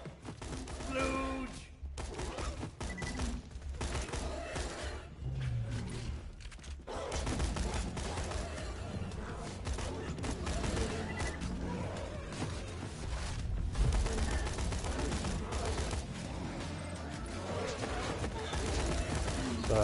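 A Dahl slag assault rifle fires in Borderlands 2 in rapid, repeated bursts of gunfire with game effects, continuous over about twenty seconds, while a voice talks at times.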